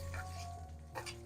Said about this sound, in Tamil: கடுகு, சோம்பு, உளுத்தம் பருப்பு தாளிக்கிறது